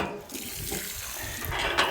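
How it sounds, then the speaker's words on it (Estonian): Water pours steadily from a stainless steel pump on a village well about 14.5 meters deep, a continuous close rushing splash with no voices. "nüüd vesi muudkui voolab"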